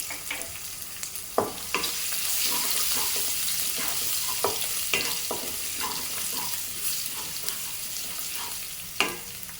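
Small pieces of ginger and garlic frying in a pan of oil, a steady broad sizzle with occasional clinks and scrapes of stirring, close and alone without voices.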